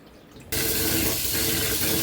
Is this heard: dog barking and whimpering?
no